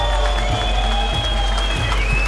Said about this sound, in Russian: Аплодисменты заглавному событию!